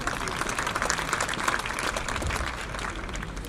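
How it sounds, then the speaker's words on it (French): Spectators at a tennis quarterfinal of the Open de Nice Côte d'Azur clay-court tournament applaud Ernests Gulbis, a steady patter of many hands clapping, moderately distant and not very loud, with no voices over it. "Applaudissements du public pour Gulbis"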